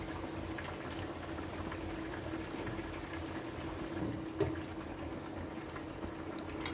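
Rice for a banana-flower pulao simmers in a covered pot with a soft, continuous bubbling murmur, a faint knock of the lid or spoon near the middle.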